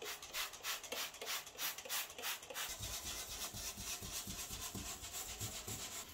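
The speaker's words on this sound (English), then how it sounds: "I'm just going to get in there and scrub it" A toothbrush with stain remover scrubs a bar mat in quick rhythmic back-and-forth strokes, close but quiet.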